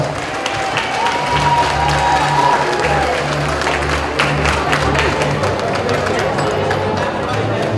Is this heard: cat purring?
no